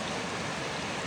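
Steady broadband rush of river water streaming over rocks, continuous and close, with no voices.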